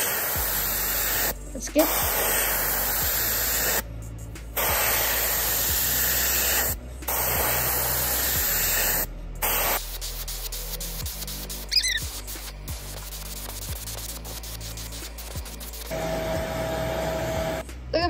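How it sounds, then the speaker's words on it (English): Airbrush hissing out light green paint onto a Whopper Plopper fishing lure, in several steady bursts broken by short pauses, fairly loud and close, with a few spoken words partway through. "We got the Lima Light Green in the airbrush."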